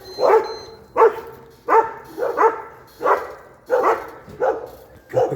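A dog barks repeatedly in a steady rhythm, about eight sharp barks close by, with faint background noise between them.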